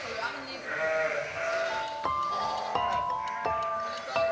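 Newborn lambs and ewes bleat repeatedly in a straw-bedded sheepfold during lambing season, several overlapping calls near and clear, with voices talking underneath.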